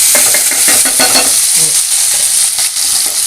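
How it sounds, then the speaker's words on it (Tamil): Tomato, onion and garlic sauté in hot groundnut oil, a loud continuous sizzle broken by repeated scraping stirs of the spoon against the pan, close up and with no voices. "நல்லா வதக்கிங்க அடுத்தது தக்காளி வெங்காயம் பூண்டு எல்லாத்தையும் போட்டுடலாம்"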